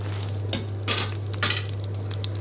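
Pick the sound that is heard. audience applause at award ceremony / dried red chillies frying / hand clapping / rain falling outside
dried red chillies frying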